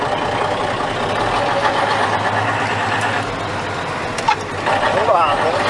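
An old vehicle with two gear levers being driven, its engine giving a steady mid-pitched running drone with loud rough road and cabin noise throughout, plus a brief clunk near the end.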